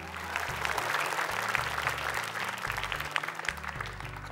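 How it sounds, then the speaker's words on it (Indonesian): A crowd applauds steadily for several seconds, a dense patter of clapping at moderate volume with some music-like tones underneath. "Boleh tepuk tangan untuk mereka."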